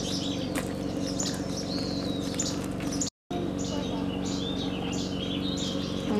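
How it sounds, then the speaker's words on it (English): Small birds chirp and tweet near a campsite in short, high calls scattered over a steady background hum, fairly close, with no talk. "A few birds have already come and taken some."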